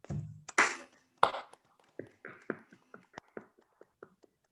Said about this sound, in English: I think all of us should unmute now and give her a very big round of applause.